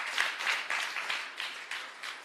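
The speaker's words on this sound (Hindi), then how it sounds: "तालियां बजनी चाहिए।" Audience applause at a Vedic seminar, a brief burst of many hands clapping in a steady pulsing rhythm, moderately loud and fading slightly toward the end.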